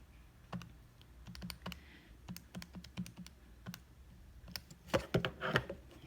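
Quick key presses on a calculator keypad while entering a line-of-best-fit equation: a steady run of light taps, faint and close, with a brief dense burst of clicks near the end.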